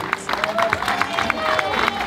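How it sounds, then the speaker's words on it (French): Crowd on a riverside quay on the Loire in Saumur applauding fishing champions, scattered close claps and chatter in a lively outdoor gathering. "Bravo, on peut les applaudir."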